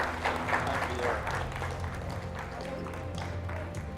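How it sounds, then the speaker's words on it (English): A crowd applauding, a dense wash of clapping that fades slightly over a few seconds. "Another round of applause, ladies and gentlemen."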